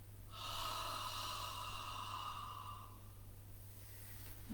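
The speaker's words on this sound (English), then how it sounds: "as you breathe out" A long, steady exhalation during a guided yoga breathing exercise, a soft airy rush held for about three seconds at close range before fading, with a low steady hum beneath.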